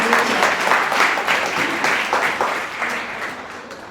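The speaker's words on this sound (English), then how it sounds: "Can we give a big round of applause for them?" Steady audience applause at an evening interfaith Christmas gathering, a dense wash of many hands clapping, loud at first and tapering slightly toward the end, with no talk over it.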